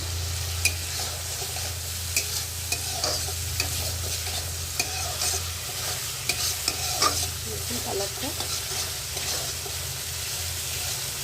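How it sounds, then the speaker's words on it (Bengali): Meat and tomatoes sizzling in a bell-metal wok while a spatula stirs and scrapes, giving irregular clinks and scrapes over a continuous frying hiss; no speech. "অনেক ভাজা হবে এটা অনেকক্ষণ ধরে সাপটাতে হবে"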